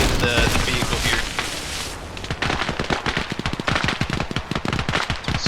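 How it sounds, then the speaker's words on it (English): In Arma Reforger, heavy gunfire strikes a vehicle, a dense rapid rattle of impacts and shots that keeps going without a break, loud and close, with no one talking. "there's heavy shots coming into the vehicle here"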